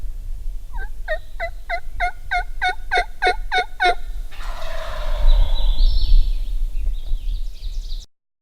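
A turkey gobbles in a rapid rhythmic series, then a longer rolling gobble follows over steady low wind rumble outdoors.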